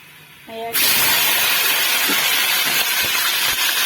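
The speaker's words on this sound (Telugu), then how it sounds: "ఆయిల్ పోసి ఆల్ గరం మసాలా ఫ్రై చేస్తున్నా" Whole garam masala spices frying in hot oil in a pan for chicken biryani: a loud, steady sizzling hiss that starts abruptly and carries on without a break, with faint clinks of the pan beneath it.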